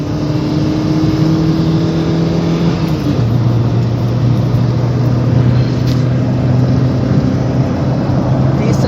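A petrol Toyota Corolla accelerates in third gear past 100 with the air conditioning running, its engine droning loudly and steadily inside the cabin, the pitch dropping and settling partway through.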